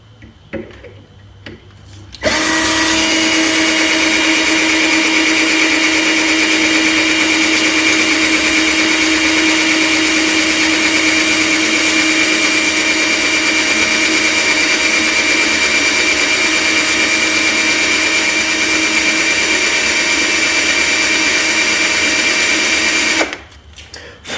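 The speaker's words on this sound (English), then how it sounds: "this is taking longer to drill than I thought it would" A loud, steady power drill whines continuously for about twenty seconds after a brief quiet start, then cuts off abruptly.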